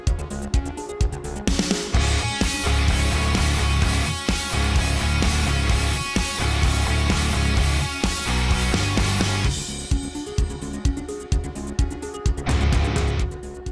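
A CNC machine drills a huge 4-ton rock drill head with a carbide-tipped drill, making a loud, harsh, continuous grinding roar with shaking, rattling bursts that swell and ease throughout.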